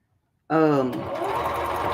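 A sewing machine stitches around skirt fabric with a 3 mm seam, starting abruptly after silence with a quick whirring burst and then a steady mechanical hum, close by, as a voice talks over it.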